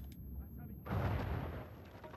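A mummy explodes in the video game Uncharted 4, a single muffled blast that swells into a rumbling burst of debris, heard close and fairly loud.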